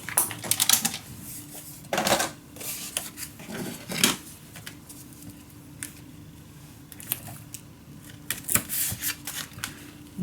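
Soft crinkling, scraping and sharp snips as paper is scored and cut for a scrapbook folio, coming in irregular bursts with quiet gaps between them, close and fairly faint.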